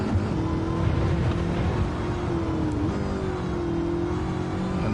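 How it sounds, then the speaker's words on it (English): Supercharged race car engine in Gran Turismo 7, a loud, steady drone with a high supercharger whine held throughout, running close and alone. "But you can just hear that supercharger."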